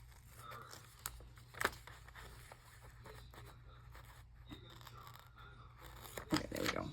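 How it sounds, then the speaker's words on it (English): Scissors cut through sticky material in short, close snips and tearing scrapes, fairly quiet, with a couple of sharper bursts near the start and end. "But it's so hard to cut sticky things."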